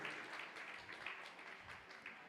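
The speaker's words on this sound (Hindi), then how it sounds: "हम सभी लोग तालियों की अनुमोदना के स्वर गुंजारित करते हुए दीप प्रज्वलन में सहभागिता दर्ज कराएंगे।" An audience claps during a ceremonial lamp lighting at a Jain religious discourse, a faint, steady patter of many hands heard at a distance with no talk over it.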